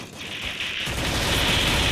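Gunfire in the mobile battle-royale game Free Fire, a steady wash of rapid shots and bursts that builds and stays loud through the whole moment, with no voices over it.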